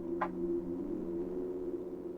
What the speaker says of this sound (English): A series of strange tapping sounds comes from the other end of the line.